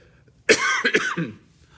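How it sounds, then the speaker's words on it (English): A single close, harsh cough burst lasting about a second, loud against a quiet room. "Sorry about the cough."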